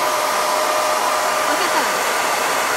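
A hair dryer blows at medium heat and is then switched to its cool shot setting, a steady, loud, close airflow whine lasting the whole stretch with no pauses.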